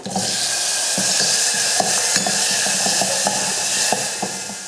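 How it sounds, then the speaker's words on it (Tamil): Steady sizzling and hissing of tomato frying in a pan with turmeric and asafoetida, with occasional light scrapes and taps of a spoon stirring, continuous and close. "இது வதங்கட்டும்."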